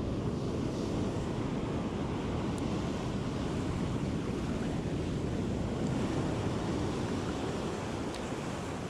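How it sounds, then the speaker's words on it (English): Ocean surf rolls and breaks steadily along the shore beside a perch fishing spot, a dense continuous roar with wind buffeting the microphone throughout. "Surf's getting crazy."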